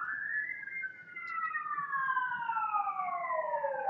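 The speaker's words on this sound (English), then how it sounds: "Let us wait for the siren." An emergency vehicle siren sounds loud and steady, its wailing tone sliding gradually downward in pitch as it passes, with no talking over it.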